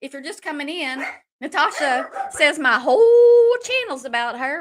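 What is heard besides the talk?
dogs barking at a delivery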